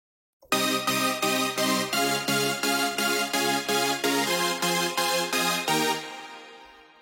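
A synth chord layer plays a steady, evenly pulsed run of bright chords, about a dozen repeated stabs with no ducking between them, changing harmony midway, then ringing out and fading alone.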